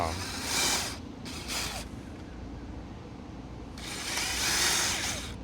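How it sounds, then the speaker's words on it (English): Power drill pre-drilling a pilot hole in scrap wood with an overly pointy bit: several short whirring bursts near the start, then a longer, louder drilling run at the end. "I might just pre-drill a little bit."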